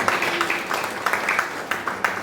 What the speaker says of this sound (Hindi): एक बार गुना करते जोरदार ताली हो जाए।